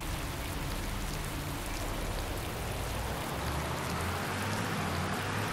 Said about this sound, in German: Schön bei Regen und Nebel.